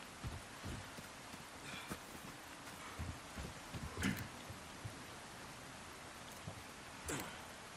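Rain falls in the Resident Evil 4 Remake video game as a soft, continuous patter, with scattered sharper drops and a few brief louder bursts, fairly faint and with no one talking.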